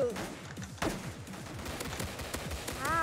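Gunfire from the Roblox game Silent Assassin: a quick string of sharp shots, fairly faint, over voice-like tonal sounds.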